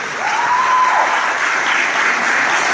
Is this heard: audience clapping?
yes